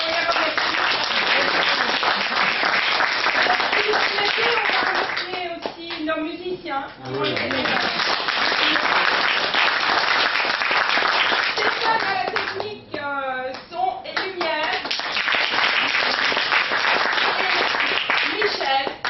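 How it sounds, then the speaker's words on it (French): Theatre audience applauding at a play's curtain call in La Rochelle, dense sustained clapping that fills most of the stretch, briefly thinning twice while someone speaks over it to thank the musicians and crew. "on les applaudit et on les remercie."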